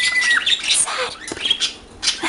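Pet birds squawk and whistle up close, giving sharp chirps, high whistles and raspy calls in quick bursts with no talking.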